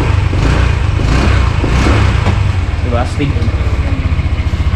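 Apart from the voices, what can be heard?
Honda Click 125 scooter engine revving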